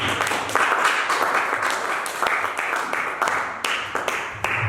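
A church congregation applauds in praise of God during a worship service. Broad, sustained clapping runs throughout at a moderate distance, with a few sharper individual claps poking through the wash.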